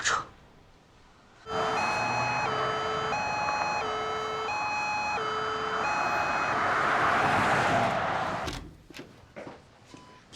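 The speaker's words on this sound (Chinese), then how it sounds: "还得给你叫救护车" An ambulance siren wails loud and close, its two alternating tones repeating steadily for several seconds before cutting off abruptly, leaving faint background noise.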